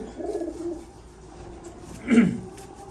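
Large breeder pigeons coo at close range, with a soft low murmur early on and a louder, fuller coo near the end over quiet background.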